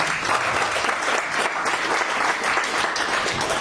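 Loud, sustained applause from a seminar audience fills the whole span, dense steady clapping without a break and little other sound.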